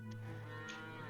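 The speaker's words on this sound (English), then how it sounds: "Let's go and have a look at our cows." Cows low in the farming video game Farmer's Dynasty, a faint, drawn-out moo with a steady tonal hum beneath it.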